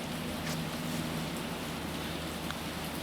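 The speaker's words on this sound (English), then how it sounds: "it raining inside the parking garage" Rain falls inside a concrete parking garage under construction, a dense steady hiss of dripping and splashing water with a low constant hum beneath it and no voices.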